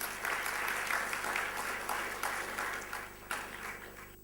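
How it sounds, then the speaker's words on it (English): Sustained applause from a conference audience greeting a speaker at a 2014 marketing event, broad and steady with a few sharper bursts, fading a little toward the end. "Ladies and gentlemen, big round of applause to Srikanth."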